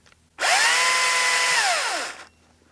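A battery-powered chainsaw whirs up sharply to a steady high-pitched electric whine, holds for about two seconds, then winds down as the trigger is released, loud and close with no talking.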